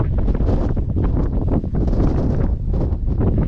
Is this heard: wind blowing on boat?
yes